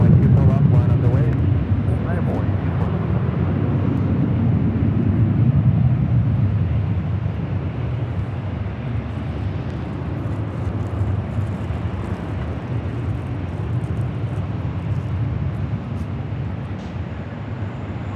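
A jet airliner takes off from runway 24 left at Los Angeles International Airport, a steady loud engine roar with deep rumble that swells then holds, heard from a distance without spoken voices.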